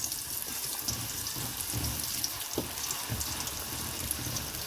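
Onions fry in a hot pan for Singapore-style sambal, a dense, even hiss of sizzling that runs without a break, with a few faint low knocks underneath.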